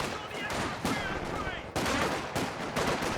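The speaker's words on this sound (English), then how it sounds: "Oh wow, an incendiary grenade thrown there." Bursts of rapid gunfire and explosive crackles from a Company of Heroes 2 battle with an incendiary grenade thrown, loud dense volleys in several waves over a few seconds.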